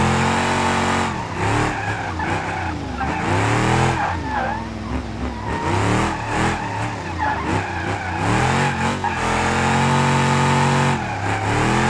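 A car drifts in a racing video game, its tires squealing in long wavering skids over a steady, loud engine drone, the screech bending up and down as the slide angle changes.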